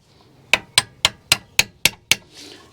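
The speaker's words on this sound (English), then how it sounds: "This might be a case of the old back of the screwdriver." Seven sharp, evenly spaced metallic taps from the back of a screwdriver used as a hammer on a 2003 Volvo XC90 D5 brake calliper, close and clear, with no talking.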